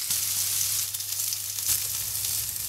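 Artichokes frying in a salted pan give off a steady, even sizzle that holds at a constant level throughout, with no voices.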